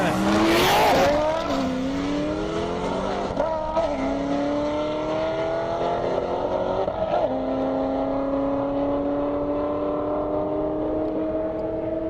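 Corvettes launch side by side at an airport drag strip: a loud burst with tire squeal, then engines scream upward through several gear changes, each shift dropping the pitch before it climbs again as the cars pull away.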